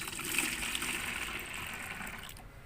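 A liter of onion-peel liquid pours into a compost mixture with a soft, continuous gushing splash that holds steady, then cuts off near the end.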